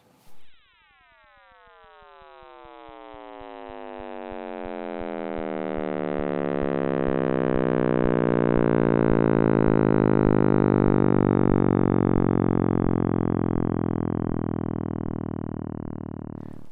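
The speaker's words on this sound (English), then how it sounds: "This is the sound of the Big Bang." Sound of the Big Bang made from Planck satellite maps of the cosmic microwave background. After a short thump, a dense, swelling hum of many tones slowly slides downward over about sixteen seconds, growing louder toward the end, with no voices.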